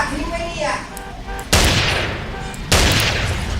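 Shotgun blasts in GTA: two loud, sharp booms about a second apart, each ringing out briefly. Before them comes a stretch of voice-like tonal sound.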